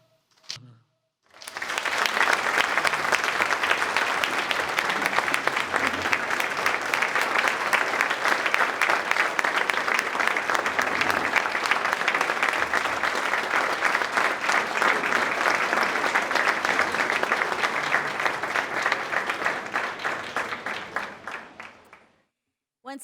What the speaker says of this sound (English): one more round of applause for the Smiley family